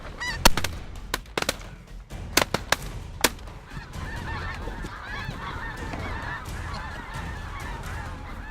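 Snow geese honk in a dense, continuous flock chorus during a foggy hunt, punctuated by several loud, sharp gunshots in the first few seconds, with the calling swelling afterward.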